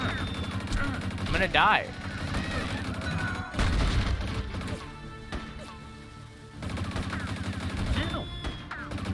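Gunfire in the Rango video game, with repeated shots and crashing impacts in bursts over game music, and a player talking between the volleys.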